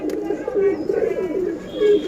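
Pigeons coo softly in a loft during days of steady rain, a low continuous rolling coo close by with no talk over it.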